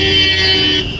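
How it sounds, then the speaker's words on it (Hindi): A car horn blares in one long continuous honk, loud and close, over low road rumble, on the road from Har Ki Pauri to Patanjali in Haridwar during the Kanwar Yatra. "अब ये देखो ये कैसे हॉर्न मारता हुआ गंदे तरीके से लेके जा रहा है"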